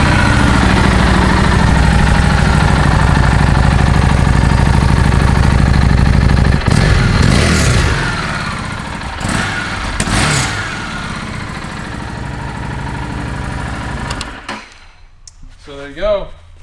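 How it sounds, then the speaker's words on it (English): A 2015 Harley-Davidson Street 750 motorcycle engine runs loud and close, a steady idle with a few throttle blips before it cuts off and falls quiet near the end. "Fire this up for you guys to hear it can run."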